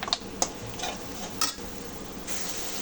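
Spice paste of turmeric, chili powder, coriander powder, salt and garlic paste sautéed in a pan for a small-fish curry, with a soft continuous sizzle broken by a few sharp spoon scrapes and ticks.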